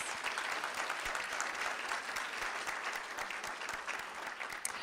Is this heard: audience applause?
yes